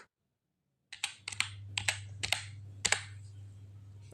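Keys clicking on a computer keyboard while entering text into an Excel spreadsheet, a near, fairly quiet run of separate taps after a short silence, with a low steady hum beneath.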